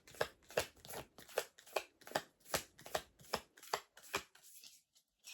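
A deck of cards is shuffled by hand in a steady run of about a dozen sharp, close slaps and riffles, then stops.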